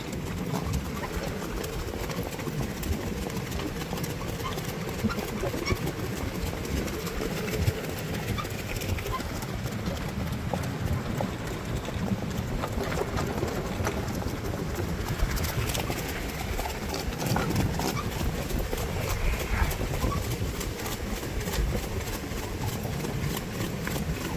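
Steady clip-clop of a pair of horses walking along a smooth, level road, continuous and moderately close, with a light rumble and faint birds in the background.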